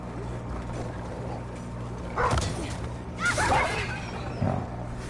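Dogs attacking in the video game Demon's Souls, heard as two or three short bursts of snarling and barking over a steady low game hum, close and moderately loud.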